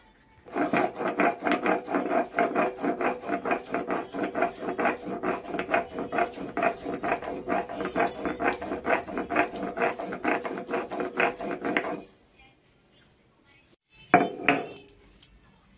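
Mustard seeds ground into a paste by hand on a stone, a rapid rhythmic scraping and knocking that runs steadily for about twelve seconds, then stops, with a brief clatter near the end.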